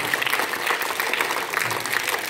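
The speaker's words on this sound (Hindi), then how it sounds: "अब मैं जैसे तालियों के लिए कहूँ और जोरदार तालियां बजानी आपको" Children at a sweater distribution event clap loudly and steadily, a dense sustained burst of applause with no gaps.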